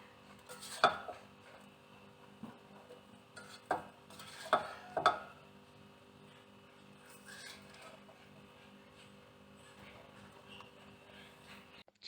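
Chicken vegetable pasta being served from a pan into a dish, with a few sharp clinks of utensil against cookware spread over several seconds against a quiet kitchen background.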